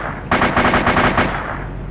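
A short, loud burst of close machine gun fire in the military shooter ARMA 2, rapid shots sustained for about a second before fading.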